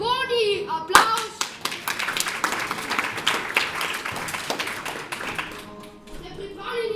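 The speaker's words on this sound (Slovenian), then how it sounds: "Aplavz!" An audience claps for circus rope acrobats, with brisk, dense clapping that swells and then thins, and voices speak at the start and end.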